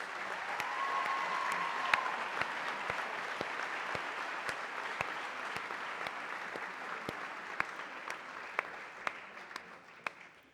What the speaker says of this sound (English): If I could have a round of applause.